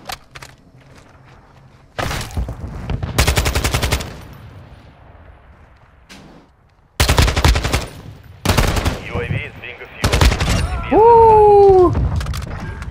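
Bursts of Desert Eagle fire in Call of Duty MW2 crack out in rapid volleys, loud and close. Footsteps, other game sounds and a player's voice fill the gaps between them.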